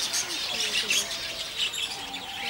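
Rose-ringed parakeets and other birds call in Thabor park, Rennes, with high chirps and tweets scattered through a continuous busy outdoor backdrop, moderately distant.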